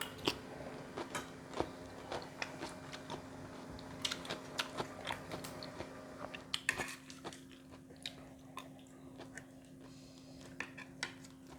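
Fresh raw vegetables eaten with a Thai fermented soybean chili dip, giving close, crisp crunching bites in an irregular rhythm over a steady low hum, with no talking.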